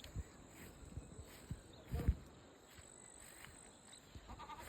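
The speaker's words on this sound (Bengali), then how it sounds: "এই একটা ছাগল দেখতে পাচ্ছি।" Goats in a goat shed at Jhandi in the Kalimpong hills of North Bengal give faint, scattered bleats and small stirrings, with a couple of slightly louder calls near the middle and otherwise quiet surroundings.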